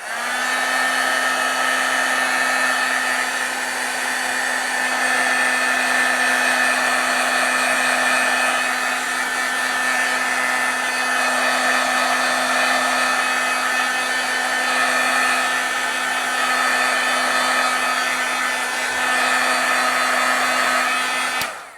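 A heat tool blows a continuous, close, loud stream of air with a steady motor whine, drying paint pen artwork on a stamped embossing project, unchanging for over twenty seconds with no talk.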